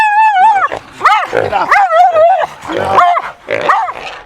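Hunting dogs bark, yip and whine in excited bursts while catching a wild pig in the Australian bush, loud and close, with bits of human voice mixed in.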